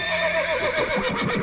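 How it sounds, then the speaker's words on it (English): Roach, Geralt's horse in The Witcher 3, lets out a loud, close, wavering whinny, spooked by ghosts, with a faint clatter of hooves beneath it. "Spooking my horse. Roach doesn't like ghosts."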